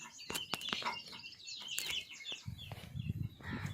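Chicks chirping in short, high peeps close by, with faint clucking fowl and a scuffling rustle toward the end.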